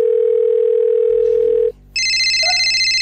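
A steady telephone dial tone sounds while a number is being called, loud and continuous, then cuts off briefly before higher electronic call tones follow.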